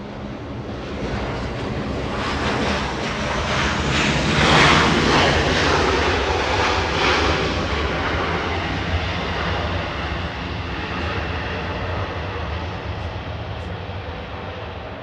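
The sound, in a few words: Southwest Boeing 737 taking off from LAX runway 24 left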